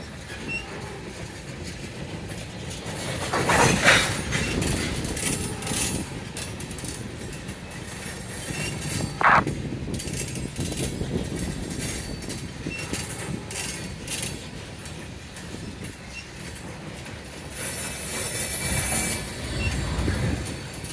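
Norfolk Southern locomotives and freight cars roll past, a steady rumbling, rattling stream of rail noise with wheels squealing, including a sharp high-pitched screech near the end.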